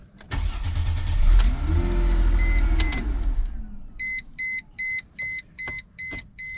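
A Mercedes C-class W203 engine cranks for about a second with a loud starter whir, then shuts off, followed by a regular series of electronic warning beeps.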